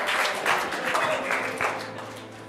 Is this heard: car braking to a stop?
no